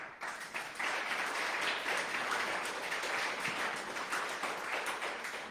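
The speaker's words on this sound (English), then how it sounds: "I think he deserves a round of applause." Steady audience applause at a candidates forum for a council ward and school subdivision, dense, even clapping from a crowd that holds its level throughout with no voices over it.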